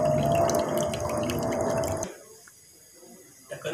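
Water from soaked rice drains and trickles for about two seconds in a kitchen, then stops abruptly, leaving near silence broken by a few faint drips.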